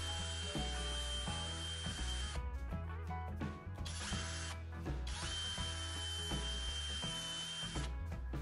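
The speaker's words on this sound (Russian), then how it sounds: "теперь с помощью такой насадки можно шлифовать отверстия" A cordless drill whirs continuously at high speed with a grinding attachment enlarging a hole, its pitch dipping briefly mid-way as it grinds against the material, close and loud.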